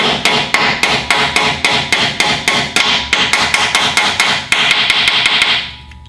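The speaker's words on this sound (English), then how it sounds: "we're gonna go ahead and hammer the locking pins into place" Steel hammer driving locking pins into rotator bolts, metal striking metal in a fast, steady series of loud, ringing blows, about two per second, close up with no talking, the last hits fading away.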